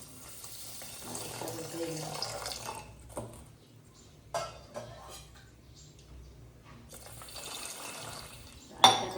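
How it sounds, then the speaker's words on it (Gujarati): Water runs from a tap onto sugar in a pan to make syrup for gulab jamun, a quiet steady trickle and splash that fades in and out, with faint clinks near the end. "હવે આપણે નાખી દેવાનું પાણી."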